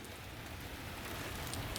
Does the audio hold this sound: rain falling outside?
yes